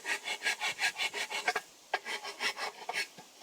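A hand file rasps a bevel onto a wooden piece in a close, even run of about a dozen scraping back-and-forth strokes, with a short pause partway through.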